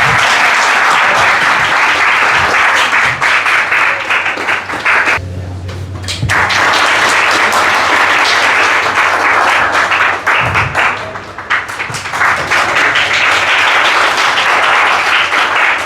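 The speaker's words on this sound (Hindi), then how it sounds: "आप एक बार जोरदार तालियां बजाएंगे" Loud, sustained applause from an awards-ceremony audience fills the clip, with a brief lull in the middle before clapping surges again.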